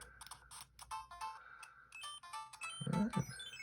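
Super Mario Bros. 3 game music and beeping effects play loudly from the small speaker of an RG350 handheld console, a bright, busy chiptune stream with a burst of lower tones near the end.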